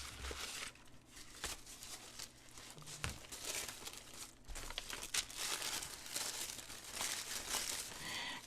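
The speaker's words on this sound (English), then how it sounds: "Right now I'm shuffling the paper that I'm going to use in my journal." Sheets of paper for a Christmas junk journal are shuffled and crinkled by hand, a steady close rustle with occasional sharper crackles and soft bumps throughout.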